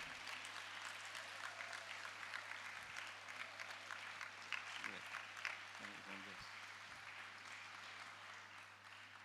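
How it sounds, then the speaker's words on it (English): A theatre workshop audience gives a round of applause, a fairly quiet, sustained patter of many hands with a few voices mixed in, heard from a little distance. "let's have a round of applause for"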